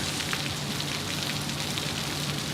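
Rain pours down at Sydney Airport at night, a steady, even hiss of heavy drops hitting surfaces with no voices or other sounds over it.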